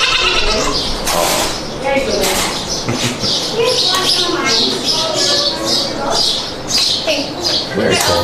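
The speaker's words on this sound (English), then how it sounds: "Oh, baby goats." Baby goats bleat repeatedly in a zoo pen, their calls standing out close and clear through the clip while a person talks briefly over them.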